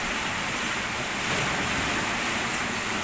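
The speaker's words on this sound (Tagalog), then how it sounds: "Wala, grabe yung maalon." Rough sea waves surge and crash without pause at a fishing spot, a loud, dense, unbroken roar of surf mixed with wind buffeting the microphone.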